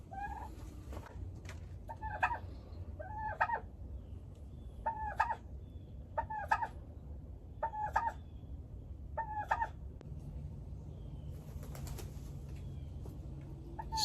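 Backyard hens from a hatchery flock give a run of regular, sharp clucks, about one call each second, over a low, steady outdoor background, close by with no talking.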